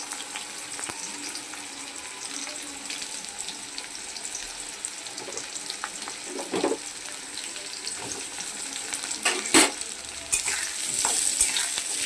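Chopped onion and potatoes dropped into hot oil with whole cumin, a fairly quiet steady sizzle with stirring and clattering, swelling louder near the end as more goes into the pan; no talking.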